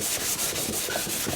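Sandpaper rubbing over primer on a MKIV Supra body panel, short back-and-forth strokes in a crisscross pattern, close and fairly loud, heard alone.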